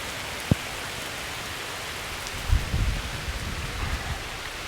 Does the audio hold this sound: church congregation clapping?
no